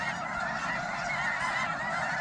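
Snow geese honking in a dense, continuous chorus at a New Mexico wildlife refuge, a steady layered wall of overlapping calls with no voices.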